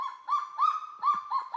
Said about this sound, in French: Une sorte d'aboiement. C'est le cri du cagou,